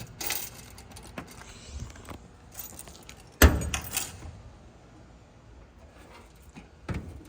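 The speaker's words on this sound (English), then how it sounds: "Got a couple keys here." Car keys for a 1965 Buick Riviera jangle in bursts, with a sharp metallic clack near the middle and quieter rattles before and after, close by with no talking.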